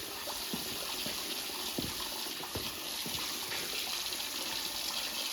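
Water flows steadily from the drain of an electric hot water tank into a hose, a constant rushing gush with faint irregular knocks and drips underneath, heard alone at moderate level.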